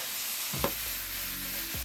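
Okra seasoned with garlic powder and pink salt cooks in a pan with a quiet, even sizzle, broken by a couple of low thumps and scrapes from a utensil.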